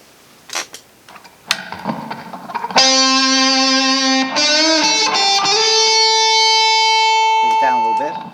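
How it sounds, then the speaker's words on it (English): An electric lead guitar played through spring reverb: a few short picked sounds, then a long sustained, harmonically rich note with a bend, ringing out loud and alone with a reverberant tail. "let's add a little reverb, a little spring reverb here"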